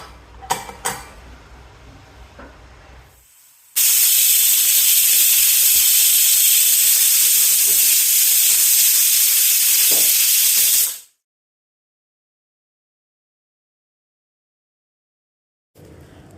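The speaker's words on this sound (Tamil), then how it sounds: "ஒரு கப்பு தண்ணி சேர்த்துட்டு குக்கரில் 1 விசில் வச்சா போதும்." A pressure cooker cooking jackfruit releases its whistle, a loud sustained steam hiss lasting about seven seconds that cuts off abruptly into silence, preceded by faint kitchen clatter.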